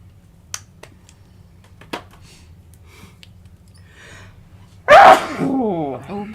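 A single loud, close sneeze bursts out near the end after a few quiet clicks and faint breaths, with a soft voice trailing after it.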